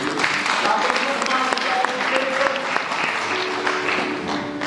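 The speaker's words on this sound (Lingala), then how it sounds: "Nous acclamons encore une fois de plus pour la parole de Dieu" Congregation at a funeral service for Alain Antonio Sukami applauding together, a dense sustained clapping that runs steadily throughout with faint voices and some tonal sounds mixed underneath.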